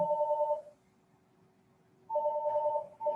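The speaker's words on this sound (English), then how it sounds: "Sorry, we got a phone call coming in here." A telephone rings with an incoming call during a recorded physics lecture: two clear electronic ring bursts separated by a pause, fairly loud and close, with no voices.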